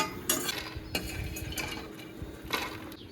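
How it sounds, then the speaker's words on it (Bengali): Fried fox nuts scooped out of a wok into a bowl: a few metal scrapes and light clinks of the utensil against the pan, close and moderately loud over a low kitchen background, with no talking. "এখন এটা আমি একটা পাত্রে এই যে উঠিয়ে নিচ্ছি।"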